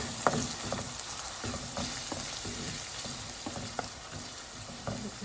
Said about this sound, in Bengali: পেঁয়াজ দিয়ে ভালো করে কষিয়ে নিতে হবে